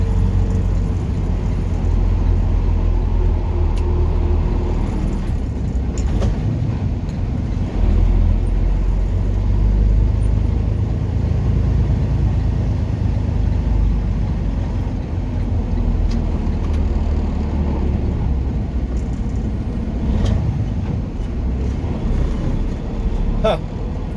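Car engine and road rumble from highway traffic on I-70 through Kansas City, a steady low drone with passing vehicles throughout, with people talking over it.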